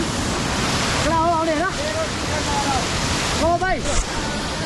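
A hidden waterfall in Chitwan, Nepal, roars in a loud, continuous wash of falling water, with a voice briefly speaking or calling over it twice.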